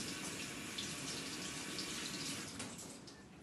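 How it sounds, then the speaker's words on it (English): Tap water runs steadily from a kitchen faucet over parsley being washed, a continuous close hiss and splash that fades slightly toward the end, with no talking. "Okay, now I'll just wash my parsley."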